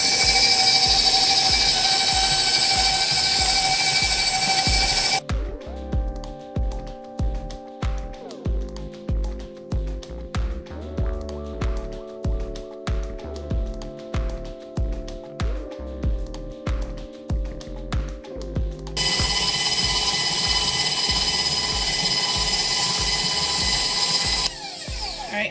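Electric mixer whirring steadily as half the sugar goes into a 7 Up cake batter, a loud, close motor drone with a rapid rhythmic pulsing, after a patch of loud noise.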